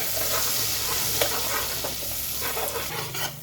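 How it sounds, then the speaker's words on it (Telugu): Masala and curry leaves fry over a low flame, giving a steady close sizzle with soft stirring scrapes and a few sharper spatter ticks throughout. "లో ఫ్లేమ్లోనే బాగా ఫ్రై చేయాలండి మసాలాలన్నీ"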